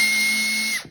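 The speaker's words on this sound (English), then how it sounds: "I'm gonna take my drill and I might apply just a tiny bit of" Power drill bores into a 3D-printed awning window arm, a steady whine holding near-constant pitch for almost a second before spinning down, close and loud with no talk.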